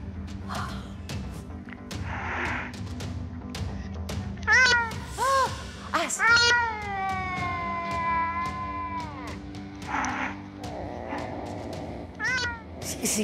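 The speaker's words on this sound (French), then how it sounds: "Ah, il y a un chat. J'entends les chats." Cats meow and growl indoors: a drawn-out, wavering yowl, shorter meows, and low rumbling growls, fairly close, with a few quiet human murmurs in between.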